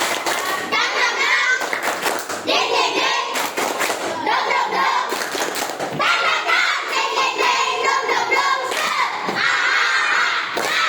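Elementary schoolchildren doing the rhythmic "tepuk semangat" clap chant at a school in Pontianak: bursts of patterned clapping and thumps mixed with loud children's voices chanting and shouting throughout.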